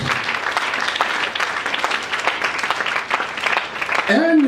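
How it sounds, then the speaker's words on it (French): A church congregation applauds for Jesus, with dense sustained clapping and crowd noise running throughout, close and steady, ending with a rising voice or tone near the end. "Acclamons pour le Seigneur Jésus"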